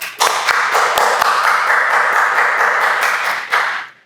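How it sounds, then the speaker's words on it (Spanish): A studio audience gives a guest comedian loud, close applause, starting with a few sharp claps, swelling into a dense, sustained roar of hands, then tapering off at the end. "por favor, fuerte aplauso los dos para Popper"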